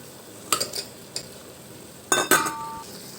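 Spoon clinking against a cooking pot while potatoes are stirred into a tomato curry, a few sharp metallic taps and scrapes in irregular bursts, close and fairly quiet with no talk.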